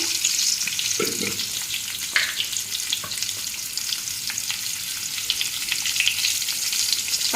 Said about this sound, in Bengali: বিরিয়ানি আলুগুলো ভেজে নেব